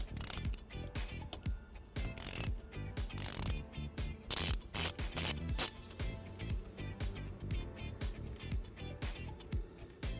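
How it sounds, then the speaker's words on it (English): A ratchet turning a 12 mm socket removes a nut from a terminal post on a 2021 Tesla Model S, giving quick bursts of close, crisp clicking with short pauses between strokes. "So we're going to use a 12 millimeter socket to remove this nut."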